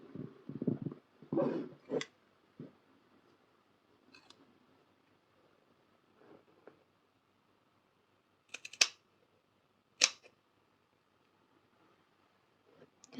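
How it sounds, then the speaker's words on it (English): Scissors snipping excess macrame cords on a stone necklace, a few crisp isolated cuts spaced several seconds apart among soft handling rustles, close and quiet, no talking. "we can snip our excess cords off."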